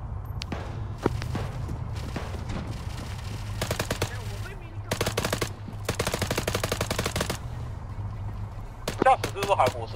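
Machine gun fire in the military simulation game Arma 3, several loud rapid bursts of automatic shots separated by short pauses, with quieter single cracks and a low rumble between them, and voices talking at times.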